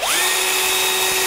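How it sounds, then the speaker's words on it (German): An electric drill spins up with a rising whine and then holds a steady high pitched motor tone as the bit is set against a board, loud and close. "Und dann setzt ihr den Bohrer an."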